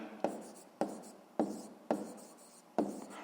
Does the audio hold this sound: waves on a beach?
no